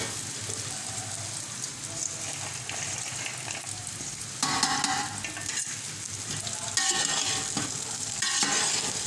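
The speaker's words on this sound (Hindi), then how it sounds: "अब इसको 10 मिनट के लिए हल्का सा फ्राई होने के लिए रख दूँगी धीमी आंच पे" Okra sizzling in a pan over low heat, a steady crackling fry with occasional louder bursts of stirring and spattering.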